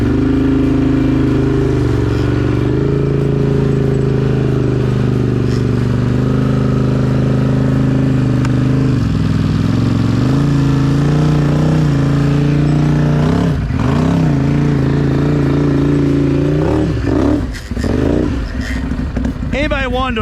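An off-road side-by-side vehicle, a Can-Am or CFMoto, grinds through mud with a loud, continuous engine roar whose pitch dips and climbs as it speeds up, with clattering and scraping near the end.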